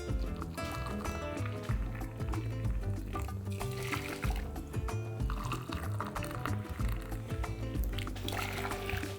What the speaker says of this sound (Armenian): Մեկ բաժակ բրնձին կավելացնեմ 2 բաժակ եռացած ջուր